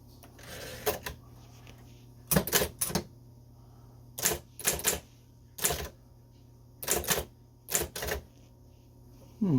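Keys striking on a Silver-Reed Electric 8700 electric typewriter come in quick clattering bursts separated by pauses, each flurry sharp and close over a steady low motor hum.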